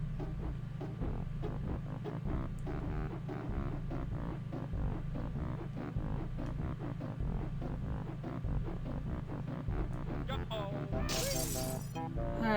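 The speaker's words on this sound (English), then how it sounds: "I forgot I had to break the glass" Glass shattering in the Banjo-Kazooie video game, a bright crash near the end that cuts through steady, looping game music with a thumping bass line.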